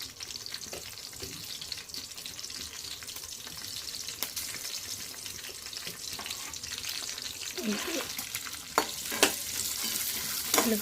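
Chilli, ginger and garlic frying in oil, a continuous soft sizzle with occasional stirring scrapes and clinks, fairly faint and alone, growing slightly busier toward the end.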